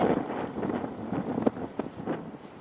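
Strong wind at a Pacific Ocean beach buffets the microphone in an uneven, gusty roar that rises and falls throughout, with no voices.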